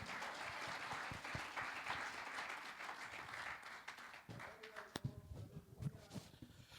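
Church congregation applauding during a worship service, a dense sustained round of clapping that fills most of the moment and thins out toward the end, with scattered louder individual claps.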